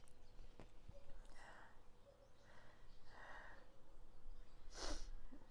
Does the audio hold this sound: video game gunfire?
no